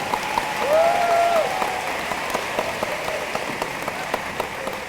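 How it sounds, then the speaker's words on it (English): An audience at a university freshman welcome applauds steadily, a dense patter of many hands clapping at moderate distance, holding an even level throughout. "You can clap."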